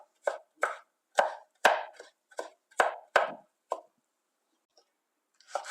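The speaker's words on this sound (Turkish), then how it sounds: "Üzerine biraz vurduktan sonra onları da minik minik doğruyorum" Garlic is chopped finely with a knife on a cutting board, about nine crisp, separate knocks in an uneven rhythm, then a pause before a couple of faint taps.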